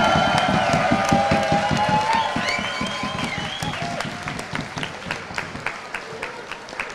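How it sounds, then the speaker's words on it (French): Outdoor crowd applauding the volunteers at a district challenge event with a fondue-pot throwing contest, a dense burst of many hands clapping with some cheering and whistles, loud at first and thinning out. "Je crois qu'on peut tous les applaudir."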